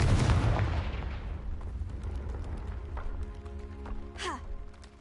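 A Confringo spell blast in the game Hogwarts Legacy opens with a loud booming explosion that decays over a few seconds into scattered crackles, followed near the end by a brief swooping effect.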